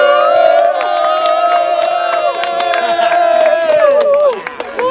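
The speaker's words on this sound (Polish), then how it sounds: "Wielkie, wielkie brawa!" A large crowd at a World Youth Day gathering cheers and claps loudly, with sustained chanting voices and sharp scattered claps that fade slightly near the end.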